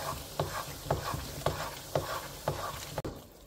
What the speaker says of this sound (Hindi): इसको पकाते हैं हम थोड़ा सा।